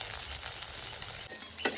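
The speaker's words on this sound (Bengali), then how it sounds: "এই যে সোয়াবিন ভাজা হয়ে গেছে" Soybean chunks sizzle softly in hot oil, a steady hiss that ends in a brief louder scrape or clatter near the close, with no voices.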